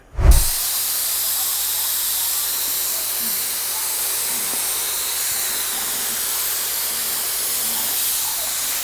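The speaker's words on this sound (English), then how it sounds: "let it soak and then spray the activator" A steady, forceful hiss of activator sprayed onto hydrographic film runs continuously for several seconds after a brief low thump at the start.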